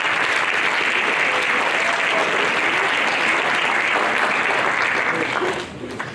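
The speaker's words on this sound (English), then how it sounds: "Let's give them a round of applause" Sustained applause from a concert audience at an orchestra performance, a steady loud wash of clapping that tapers slightly at the very end.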